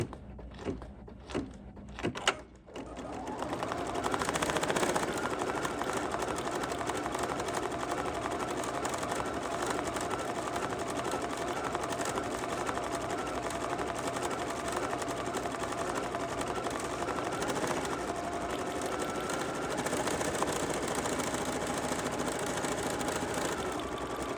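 An 880 series embroidery machine stitches a greeting card in the hoop, starting with a few separate clunks before settling into a steady, fast mechanical whir that runs on evenly and close by.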